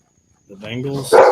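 A dog barks once or twice briefly near the end, close and fairly loud, overlapping a voice talking.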